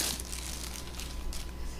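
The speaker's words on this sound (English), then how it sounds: "Let me take out the plastic bag." A plastic bag crinkles as it is pulled from a 12-cup programmable coffee machine's box, a soft, brief rustle heard close and quiet, with no talking.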